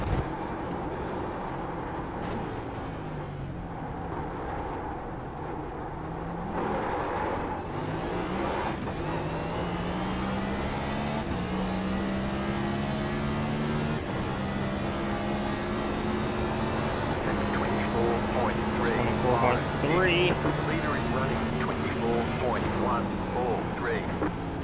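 A race car on a street circuit with giant bumps runs at speed, engine pitch stepping down through repeated downshifts, a continuous close mechanical roar with a voice talking over it throughout.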